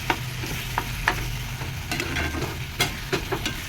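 Jhurjhure loita fish frying in a pan is stirred with scattered scrapes and clinks over a steady low sizzle, close but fairly quiet.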